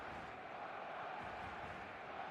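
Stadium crowd in a football video game, a dense, steady roar of massed voices with no breaks, fairly loud and continuous throughout.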